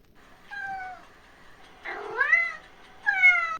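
A cat meows three times up close, long drawn-out plaintive cries with short gaps between them.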